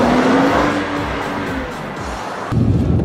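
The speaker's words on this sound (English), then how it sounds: "we are in a BMW 535i on the racetrack" BMW 535i on a racetrack, heard from inside: a steady loud engine and road roar with a faint rising whine, swelling again near the end, no talking.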